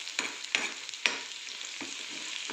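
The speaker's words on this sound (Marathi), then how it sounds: "आपला कांदा सगळं काही व्यवस्थित आता झालेलं आहे फ्राय" Onion frying in oil in a pan for a spicy chapati crumble dish, a steady close sizzle broken by several scraping stirs of a spoon against the pan, with no voices.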